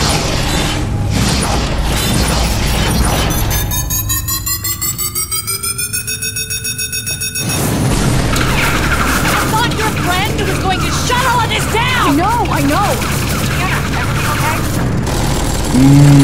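Automated turrets firing in the Tales from the Borderlands video game, loud mechanical bursts and rattling under a rising whine, with booms and electronic tones; voices speak over parts of it.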